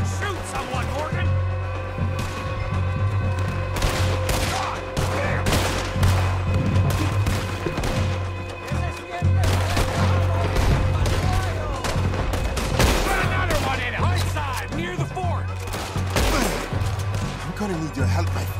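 Gunfight in Red Dead Redemption 2: rapid, dense gunshots and crashing impacts crackle continuously under frequent shouted talk and game music, loud and near throughout.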